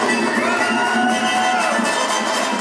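At an opening ceremony in Dagestan, children cheer and shout in a dense, loud crowd roar that holds steady for a couple of seconds.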